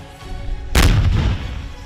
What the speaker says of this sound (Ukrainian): обстріли